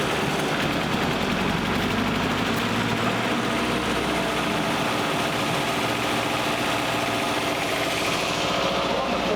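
An abandoned Nissan 240SX runs just after its first start in years, its engine holding a steady, rough idle with a dense, continuous mechanical drone close by throughout.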